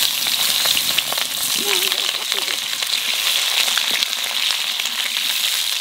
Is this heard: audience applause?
no